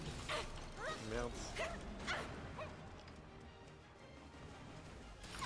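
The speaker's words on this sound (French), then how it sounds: "Oh, le chien." A dog barks several times in short, sharp yips in the Final Fantasy VII video game, fairly close, mixed with game sounds before fading into quieter background noise.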